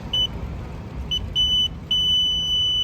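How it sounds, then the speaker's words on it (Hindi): An electronic timing chip beeps as a runner crosses the timing mat during a police constable recruitment running test in Jharkhand: a few short, shrill beeps followed by one long sustained tone over steady outdoor background noise. "चिप को आप जैसे यहाँ से पार करेंगे एक बीप का आवाज आएगा, सुन लीजिएगा।"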